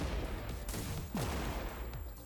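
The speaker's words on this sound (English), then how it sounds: "Let's pull out the rocket launcher again," Rocket launcher fire in a sci-fi tower-defense shooter, with sharp blasts and a falling whoosh trailing off around the middle, set against a dense, continuous wash of game noise.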